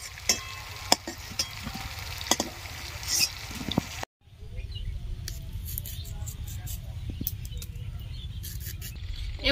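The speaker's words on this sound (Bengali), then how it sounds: "একটু সময় ধরে পটলগুলো ভেজে নিলাম, ভাজা হয়ে গেছে।" Pointed gourd (potol) frying in hot oil gives a steady sizzle with scattered clinks and stirring, broken by a brief drop near the middle before the frying resumes at an even, moderate level.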